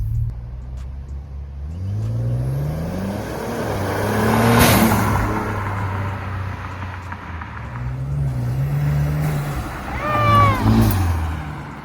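A Ford Taurus SHO engine revs up and drops back in repeated swells, with rising and falling pitch sweeps. The sound is fairly loud and close, with a steady low rumble between the revs.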